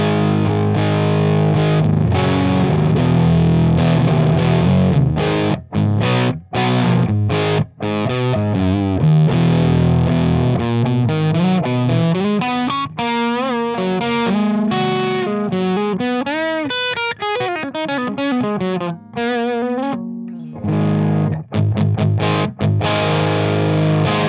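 Heavily distorted electric guitar through a Marshall 1987X normal channel at full gain on the bridge pickup, loud sustained chords and single-note lines with sharp stops and bends, played alone.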